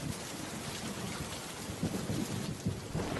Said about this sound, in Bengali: কতদিন পর বৃষ্টিতে ভিজছি।